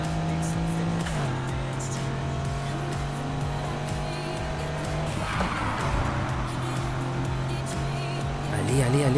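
Racing car accelerating in the video game Need for Speed Heat, a steady sustained engine drone that shifts pitch as it gears up, with a brief squeal near the end and a voice talking over it.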